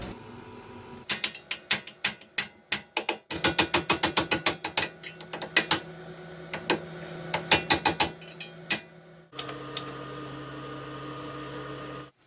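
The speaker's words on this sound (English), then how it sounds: "next let's take out this castle nut on the outer tie rod on the steering gear right here from the knuckle" A ratchet wrench works loose the 21mm castle nut on the outer tie rod at the steering knuckle of a Toyota Tacoma, giving quick series of sharp, close clicks in bursts with short gaps, followed by a steadier mechanical whir.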